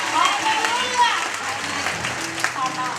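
An audience of women at a church gathering in Bujumbura breaks into loud, dense applause that mixes with cheering voices and ululation, close and continuous throughout.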